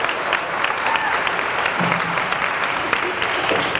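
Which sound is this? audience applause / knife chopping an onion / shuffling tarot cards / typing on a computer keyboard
audience applause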